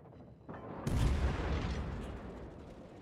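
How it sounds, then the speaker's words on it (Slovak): A warship fires a naval gun salvo in World of Warships, a heavy deep boom that swells quickly and rolls off slowly, fairly loud with no talking over it. "OK, my tu teda strieľame"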